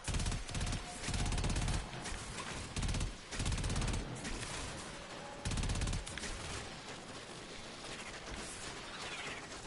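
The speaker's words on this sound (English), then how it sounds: "My Arkwing also has like rockets and shit that it fires." The Arkwing firing rockets in Warframe: rapid, loud bursts of volleys in repeated clusters, then a lower sustained rumble of explosions and game noise.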